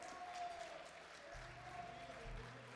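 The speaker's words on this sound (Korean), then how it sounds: "우리 중창단 분들 한 분 한 분께 여러분 다시 한 번 큰 박수 부탁드리겠습니다" Applause from an audience at a robotics community evening concert, greeting a vocal ensemble after their song; steady, dense clapping throughout with a low hum beneath.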